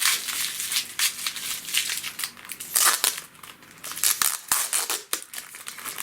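Packing tape is pulled and torn off a postal parcel of flowering orchids, giving crinkly ripping bursts and crumpling rustles in an irregular series, close by with no talk.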